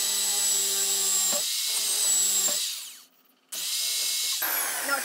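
Power drill boring out the centre of a painted-over lock, a high whining drill run in several bursts with brief pauses and one near-silent gap, close and loud with no talk.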